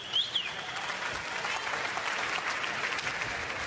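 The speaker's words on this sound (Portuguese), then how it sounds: "Arrancando aplausos aí do torcedor" Spectators at a gymnastics competition applaud a high bar routine, a soft, distant, continuous patter of clapping from the stands with a brief whistle near the start.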